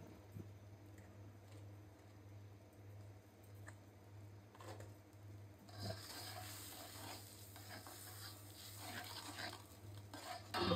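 Spices with salt frying in a pan for a stinging catfish curry with potato and tomato, quiet stirring scrapes at first, then a louder steady sizzle with utensil scraping taking over partway through, no talk.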